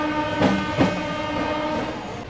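Kolkata–Digha passenger train running slowly after leaving Andul station, a steady rumbling rail drone with two brief louder swells, no voices.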